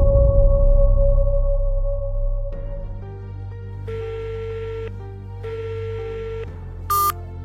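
An unanswered phone call rings out with a low dial tone, then repeating electronic ring-back bursts spaced evenly, ending in a short high beep.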